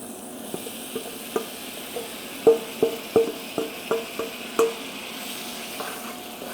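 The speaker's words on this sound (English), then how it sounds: "After mixing it for a minute or so, we're going to add our fresh tomatoes." Chunky, freshly chopped tomatoes hit a hot spiced pan, stirred in with a run of close, soft crackling pops and sizzle bursts over a low steady hiss; no one speaks.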